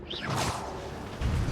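Revelio spell cast in Hogwarts Legacy, a close magical whoosh with a rising shimmer, followed by a low rumbling swell near the end.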